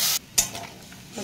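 A spice paste of chili, turmeric, coriander powder and ginger sautéed with a splash of water, heard as two sharp bursts of hissing sizzle with scraping stirring between them, loud and close.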